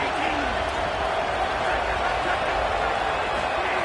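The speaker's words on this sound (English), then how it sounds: "Guns up, and so is the noise. The crowd electric trying to help Tech on this third down." Steady roar of a college football stadium crowd cheering Texas Tech on a third down, a dense, continuous wash of noise with no breaks, and faint voices woven through it.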